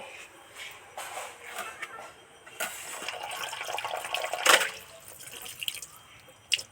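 Water splashing and dripping as cut live pond koi fish are rinsed by hand in a bowl, an irregular run of close splashes and trickles with one sharper splash near the end.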